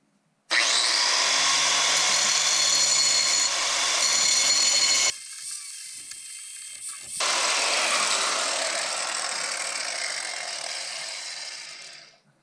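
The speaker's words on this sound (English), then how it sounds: "shave a little bit of this off with the angle grinder" An angle grinder fitted with a grinding pad shaves metal on a Honda Beat wheel stud job. It gives a loud, close, sustained whine that dips briefly in the middle, then resumes before spinning down. No one talks.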